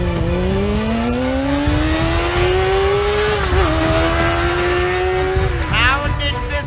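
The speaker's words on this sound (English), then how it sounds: "Kiran took off her bike very fast and in no time overtakes the three Draculas." A cartoon motorcycle races at speed, its loud engine note climbing steadily through the revs, dipping briefly, then settling before a final sharp change and a short burst near the end.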